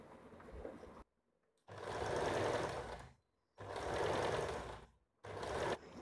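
Three steady runs of a sewing machine stitching the neckline of a blouse, each several seconds long and separated by short silent pauses, close and clear with no talk.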